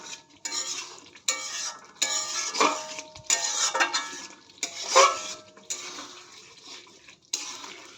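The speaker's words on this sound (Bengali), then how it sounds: "চলো কষাতে থাকি, কষানোর পরে আবার দেখাচ্ছি।" Biryani masala is stirred and sautéed in a pot, a utensil scraping and clinking against the metal in repeated bursts with a soft sizzle between strokes, close and moderately loud, with no talking.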